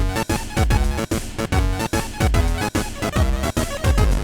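Pirate-themed dojo music from the video game Deltarune, a dense, loud track driven by a steady pounding beat with regular short dropouts between bars.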